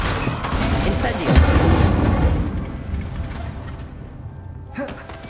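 An Incendio fire spell cast at practice targets in Hogwarts Legacy, a loud rumbling burst of flame with a deep boom that swells and then fades, followed by a quieter second flare near the end.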